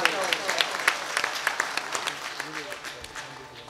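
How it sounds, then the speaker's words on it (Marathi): A small audience at a Marathi devotional song performance claps in a brisk patter of uneven hand claps, close and moderate in volume, gradually thinning out. "टाळी वाजा रे काका"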